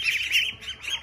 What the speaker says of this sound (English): Very happy ducks.